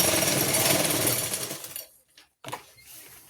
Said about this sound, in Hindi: हल्का खिंचाव करते जाएंगे इलास्टिक को और इसको सिलते जाएंगे बिल्कुल आराम आराम से